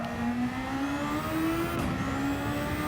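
A Formula 1 racing car engine in a video game revs steadily upward in pitch, a continuous high-pitched whine with a brief dip near the end as it shifts up, heard without any speech.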